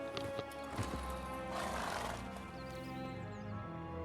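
A horse in The Witcher 3 whinnies loudly while its hooves clip-clop at a gallop, the neigh rising mid-clip over a steady game soundscape.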